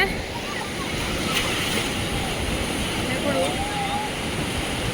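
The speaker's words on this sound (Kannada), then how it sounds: "ಜೋರು ಅಲೆಗಳಿದೆ" Strong ocean waves crash continuously on a Goa beach at night, a loud, steady roar of surf with wind noise across the microphone, and no voices break through.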